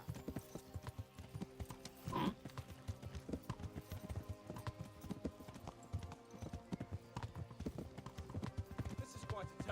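Horse hooves clip-clop steadily in the Kingdom Come Deliverance video game, a close rhythmic trot at moderate volume with a brief snort or whinny early on and faint game ambience.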